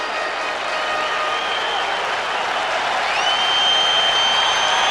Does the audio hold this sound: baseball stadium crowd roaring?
yes